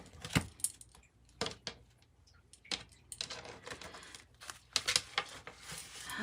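A deck of tarot cards being cut by hand, giving a run of soft, close clicks and papery rustles in uneven bursts against a quiet room, with no talking.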